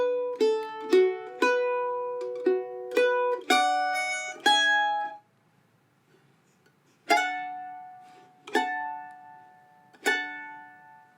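Mandolin picking a song's break, measures 9 to 11: bright plucked notes and double stops in a steady phrase, a pause of about two seconds, then three sustained ringing strums that decay.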